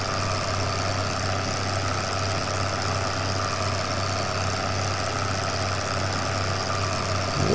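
An old, heavily worked diesel tractor idles in the Farming Simulator 2013 video game, a steady low rumbling drone with constant level and no speech.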